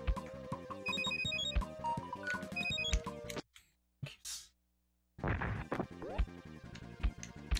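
A phone ringtone plays as a loud melodic tune over game music during a live game stream, cut off partway by silence before the game sound resumes.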